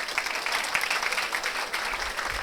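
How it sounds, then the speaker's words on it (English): An audience at a training session gives a round of applause, a continuous, moderately loud wash of many hands clapping with no talk over it. "give them a big round of applause"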